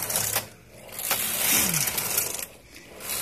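Knitting a Fair Isle pattern produces mechanical clattering in several uneven bursts with short pauses between them, close by and without speech.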